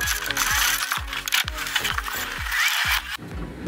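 A ratchet wrench loosens a bolt on the suspension arm of a VW Jetta A4, clicking in a quick series of about seven close, even strokes before it stops.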